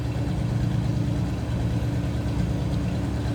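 A 1953 Oldsmobile 98 Convertible with a four-barrel carburetor and complete exhaust idling steadily, a close, even low burble with a slight pulsing rhythm and no voices.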